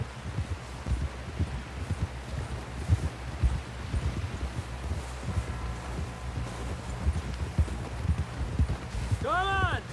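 Steady clip-clopping of horse hooves at a walking pace in the video game Red Dead Redemption 2, with rustling in the background and a horse whinnying briefly near the end.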